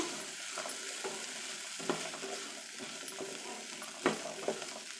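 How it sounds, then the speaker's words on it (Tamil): Chickpea sundal being stirred and sautéed with masala in a pan, a steady close sizzle broken by scraping spoon strokes at irregular intervals, with no voices. "இப்போ சுண்டலில் எல்லாம் கலக்கிற அளவுக்கு ஒரு 4-5 நிமிஷம் நம்ம நல்லா வதக்கிக்கலாம்"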